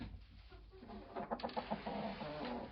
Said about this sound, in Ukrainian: Курка злякалася трішки, вона в незнайомому приміщення.